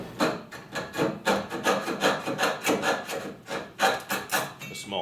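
Rhythmic rasping strokes of a hand saw cutting wood, roughly a dozen back-and-forth pulls at a steady pace, close and clear.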